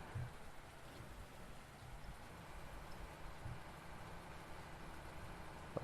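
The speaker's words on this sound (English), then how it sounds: "And you can just see how heavy the rain is." Heavy rain falls steadily on a farm hayfield during baling, a faint, even hiss with no talking.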